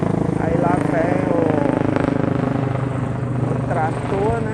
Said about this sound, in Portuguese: aí lá vem o outro helicóptero passando aqui